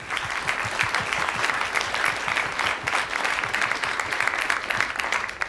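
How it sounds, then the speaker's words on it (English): An audience at a NASA Asteroid Initiative industry and partner day event applauds a speaker with steady, dense clapping from many hands, sustained at an even level for several seconds. "Let's give him a round of applause"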